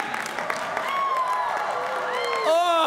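A Harvard Class Day crowd answers with cheering and applause, a dense wash of clapping and shouting that swells steadily, with whoops and a few stray voices rising above it near the end.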